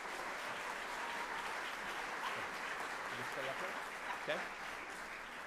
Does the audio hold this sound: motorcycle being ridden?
no